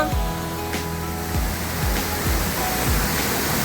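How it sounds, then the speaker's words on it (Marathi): Waterfall in Vikhare Gothane village, Rajapur, a loud, steady roar of falling water filling the scene, with a few low thumps and no clear talking. "खूप सुंदर असा धबधबा आहे"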